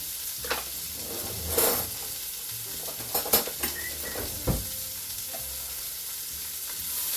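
Minced garlic goes into a Ninja Foodi XL for a roast, giving a soft steady sizzle with a few scattered clinks and scrapes of a utensil against the pot.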